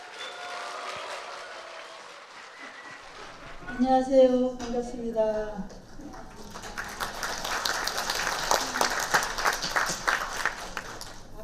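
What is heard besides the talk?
audience applause welcoming a speaker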